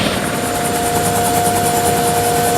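Steady rotor chop and turbine whine of a military helicopter flying for a British-controlled sector in Kosovo, loud and continuous with a close, even beat and no talk.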